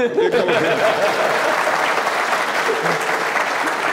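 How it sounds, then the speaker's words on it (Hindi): Audience clapping fills the whole stretch at a steady, dense level, a room full of people applauding at a televised talk show panel discussion, with a few faint chuckles mixed in. "ताली बच्चों आपने 2 दफा और बजा दी"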